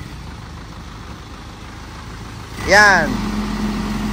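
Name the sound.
truck engine idling during RPM check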